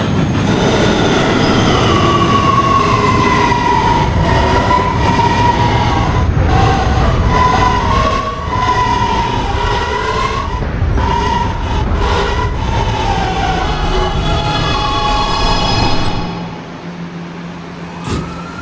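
A Roblox subway train, an R211, rumbles along steadily with rolling wheel noise and high metallic squeals, then quickly fades toward quiet near the end.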